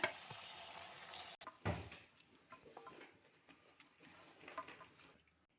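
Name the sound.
stirring cooked rice into coriander mixture in a pan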